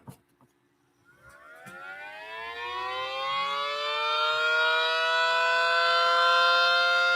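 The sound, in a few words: 3D-printed mini reverse wired Banshee siren wailing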